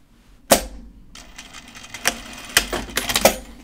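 A home sewing machine runs a short back stitch on a raglan top, giving several quick bursts of mechanical clatter with brief pauses between them, close and fairly loud.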